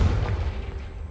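A Confringo blasting curse explodes in a Harry Potter video game, a short deep boom with a rumbling low-end decay lasting about a second.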